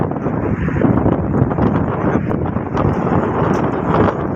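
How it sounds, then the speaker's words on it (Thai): Rain falling over the sea, a steady broadband wash of drops mixed with wind buffeting the microphone, continuous and fairly loud throughout with no voices. "ชมกันนะครับฝนตกนะครับ"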